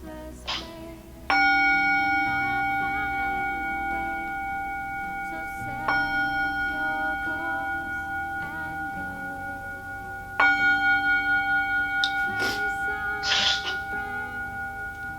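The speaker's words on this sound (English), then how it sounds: "We close the meditation with 3 rings of the gong." A meditation gong is struck three times, each ring blooming into a long, bright, shimmering tone that slowly decays before the next strike, with no talking between them.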